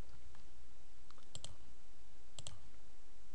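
Two brief, sharp mouse clicks about a second apart, saving settings for a slider plugin on a computer, quiet and close against faint room hiss with no talking.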